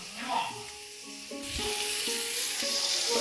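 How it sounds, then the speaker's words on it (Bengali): Neem leaves and brinjal fry in a hot pan, starting with a voice and a few clinks before a loud, steady hiss of sizzling oil takes over with someone speaking over it. "এখন হচ্ছে নিম বেগুন ভাজা করছি গরম গরম"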